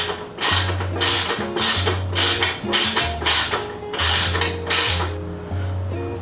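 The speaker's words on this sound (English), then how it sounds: "we're just gonna tighten up the screw from the front with the ratchet" A ratchet clicks in rapid repeated bursts while tightening a screw on a Harley Davidson rear turn signal, the metallic ratcheting close and fairly loud over a steady low hum.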